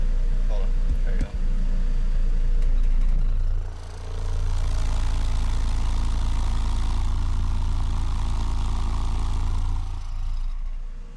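A car engine idles steadily at a low, even rumble during a dyno-style test, with a brief dip early on and people talking over the drone.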